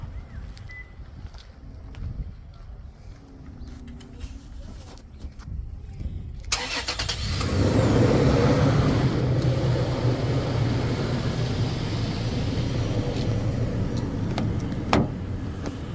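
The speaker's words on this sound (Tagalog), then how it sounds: "Yan yung aming sasakyan." A car engine cranks and catches about halfway through, then settles into a steady idle hum after a quieter stretch with faint background noise and brief clicks, at close range.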